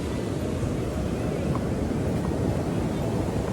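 Ocean surf rolls in at Santa Monica beach in California, a constant low roar of waves mixed with wind buffeting the microphone, with no voices.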